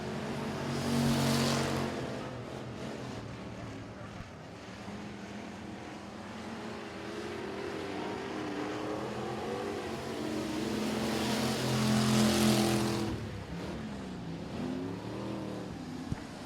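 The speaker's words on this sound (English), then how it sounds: "Two laps to go this time for race leader Ross Cook in the 100 car." Stock race cars in a heat race at Sabine Speedway, engines roaring continuously for the whole stretch, swelling loudly as the pack passes close at the start and again near the end, with a steady drone between passes.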